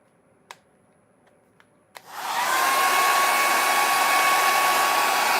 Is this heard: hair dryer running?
yes